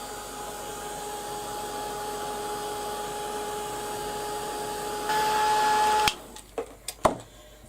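A heat gun or dryer blows hot air over fingered-on paint on a craft card, a steady close whirring hum with a constant tone for about six seconds, rising slightly before cutting off, followed by a few soft clicks and handling knocks.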